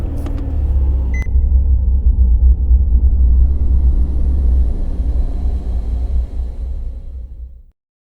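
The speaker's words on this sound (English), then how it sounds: "getting in my car and starting it up" A car engine turns over and settles into a steady low rumble, with a brief beep near the start, before cutting off abruptly.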